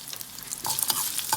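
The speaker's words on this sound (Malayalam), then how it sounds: "ഈ സവാളയും ഫ്രൈ ആവണം, മുതിരയും ഫ്രൈ ആവണം" Horse gram and onion being stirred and fried in a pan for a pepper broth, a short stretch of soft sizzling with scraping stir strokes that grows busier partway through, with no voices.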